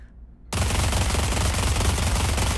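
P90 submachine gun fired in the VR shooter game Pavlov: after a brief quiet moment, a loud, sustained full-auto burst roars on without a break to the end.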